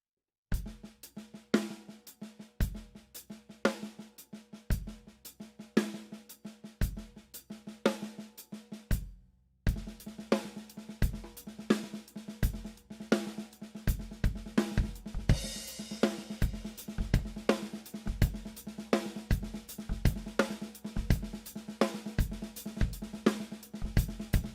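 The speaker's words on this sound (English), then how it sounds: "he's playing a drum groove where you're filling in all of the gaps, and then you're coming down with the right hand to play a backbeat" A drum groove played with right-left-left sticking, the left hand filling the gaps between right-hand strokes and a steady backbeat, rolls on at a steady pace, close and alone, with a brief stop partway before it resumes fuller.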